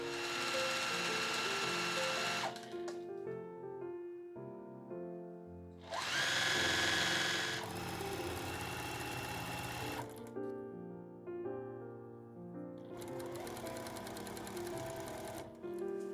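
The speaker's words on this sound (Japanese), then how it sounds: "今回も職業用ミシン SL700EX を使っていきます" A Juki SL700EX professional sewing machine stitching a dress runs in steady bursts, its rapid mechanical stitching whirring for a few seconds, pausing, then starting again, close and clear.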